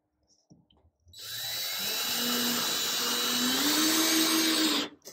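A power drill drives a screw into the wall of a vintage Serro Scotty camper, a steady whining whir rising slightly in pitch for about four seconds before stopping abruptly, close and loud.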